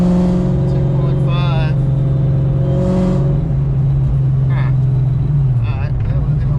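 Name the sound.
freshly tuned engine revving under load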